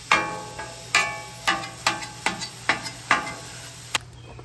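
Two pounds of ground beef sizzles on a flat-top griddle for crispy tacos, with a steady frying hiss under a run of sharp, regular spatula scrapes and taps about every half second.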